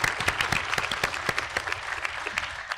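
At an awards event honoring young professionals, an audience claps in a thinner, fairly close round of applause with distinct individual claps standing out over a few seconds.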